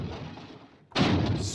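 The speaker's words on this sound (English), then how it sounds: "Car crashes." Car crash effect played from a sampler app on iOS: a quieter rumbling passage, a brief lull, then a sudden loud burst of crunching impact noise that stays dense and bright to the end, with no talking.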